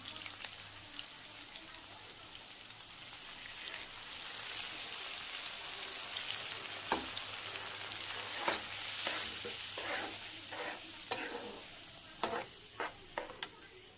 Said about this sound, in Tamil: இப்போ கரைச்ச மசாலாவை ஊற்றிடலாம்